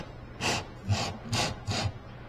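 A dual-action sander with 80-grit paper strips varnish from the wooden coachroof of a boat, giving four rhythmic scraping sweeps close up, each a broad rasp that rises and fades, alone without talk.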